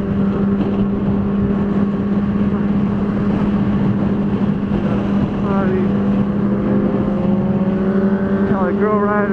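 Motorcycles passing by in a group ride, a steady engine drone with rising and falling whines as riders fly past close, continuous and loud with a voice talking over it.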